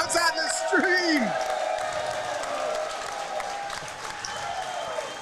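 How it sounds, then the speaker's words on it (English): A crowd gathered at Joe's for an NFL draft-day party cheers and applauds, with whoops rising near the start before settling into a steady roar of clapping and crowd noise, and voices talking over it. "Because look at this crowd we have at Joe's"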